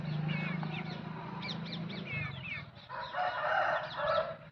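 Rooster crowing at a Bhimavaram poultry farm selling young cockerels about five to six months old, several overlapping crows rising and falling close by with other fowl clucking in the background.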